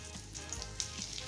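Whole cumin seeds dropped into hot mustard oil give a brief, steady close sizzle with a few tiny pops, quiet and without talk.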